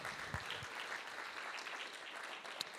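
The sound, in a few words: symposium audience applause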